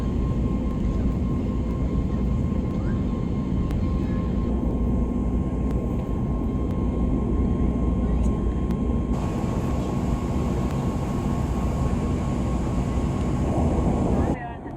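A steady, loud, broadband roar fills an airplane cabin in flight on the Stockholm Arlanda to London Gatwick route, unchanging throughout with only faint higher tones above it.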